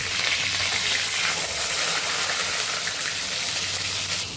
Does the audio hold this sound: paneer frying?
yes